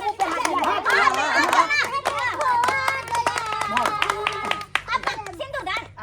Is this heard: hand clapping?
yes